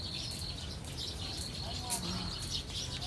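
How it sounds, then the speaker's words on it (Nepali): Birds chirp faintly at dusk near a Krishna temple as night falls, scattered high calls repeating over a soft, steady background hush. "मलाई यस्तो आवाजहरू लास्टै मनपर्छ क्या, चराको आवाजहरू"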